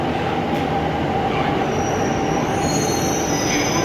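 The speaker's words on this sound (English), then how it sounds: "Oh, another metro is going from there." A New Delhi metro train passes through a station with a loud, steady rumble of rolling wheels and a high, sustained wheel squeal that builds toward the end.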